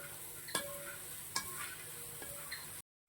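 A beaten rice (aval) mixture is stirred in a pan as it dries, giving a steady soft hiss with a few light scraping clicks of the spoon, faint and close, with no talking.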